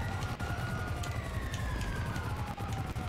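A police car siren, faint and distant, its rising and falling wail running steadily for a few seconds under low rumbling background noise.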